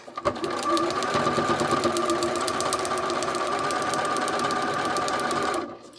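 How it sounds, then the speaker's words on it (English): A small Burnett sewing machine runs steadily for several seconds, its rapid mechanical stitching whirring close by before stopping abruptly. "Let's sew our next piece."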